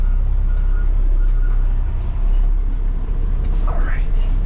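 A dumpster truck idles loudly with a heavy, steady diesel rumble while backing up, and its reversing beeps sound faintly above the engine drone.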